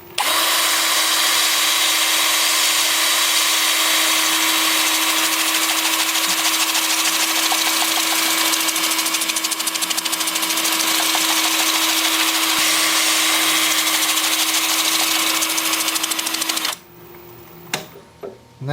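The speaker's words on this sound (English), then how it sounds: "with the lathe spinning forward at about 400 RPM" Wood lathe spinning forward at about 400 RPM while turning a cork oak bowl, a loud steady whirring hum with a constant tone that runs unbroken and then cuts out near the end, followed by a few faint knocks.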